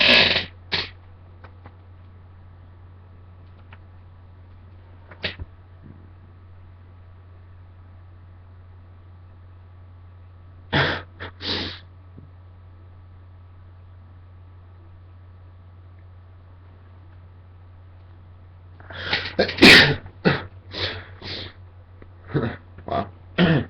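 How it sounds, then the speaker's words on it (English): A few isolated single sneezes, short sharp bursts separated by long quiet stretches over a low steady hum, with a quicker cluster of sneezes near the end. "Whenever I do lately, it's like one sneeze."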